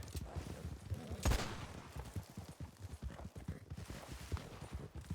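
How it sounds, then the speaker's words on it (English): Gunfire in the Red Dead Redemption 2 roleplay game, a single sharp shot standing out above steady horse hoofbeats and movement, with the ride continuing on afterward. "She's shooting back!"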